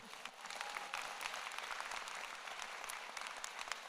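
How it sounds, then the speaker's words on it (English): The audience at the 2025 Rutgers New Jersey Medical School convocation ceremony gives sustained applause, a dense crackle of many hands clapping evenly throughout. "You can give her a round of applause too."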